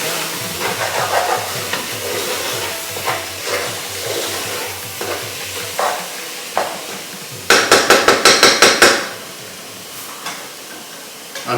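Lamb biryani being stirred in a single pot after coriander powder goes in, with a soft frying sizzle, repeated scraping strokes of a spoon, and a quick burst of loud metallic taps near the end.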